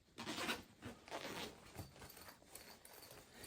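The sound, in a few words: zipper being opened on a pencil case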